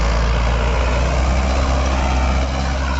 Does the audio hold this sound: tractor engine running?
yes